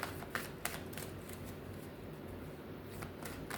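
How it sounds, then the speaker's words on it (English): Tarot cards are shuffled in a quiet room during a reading, a soft papery riffle with a few crisp snaps near the start, close but faint. "We'll shuffle this spread, okay?"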